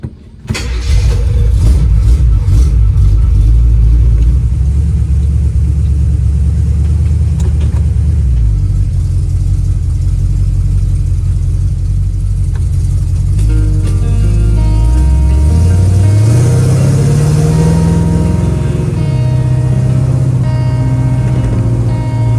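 A 1936 coupe hot rod drives off, a loud, close, low engine rumble held for a long stretch, then the revs climb and shift as the car pulls away.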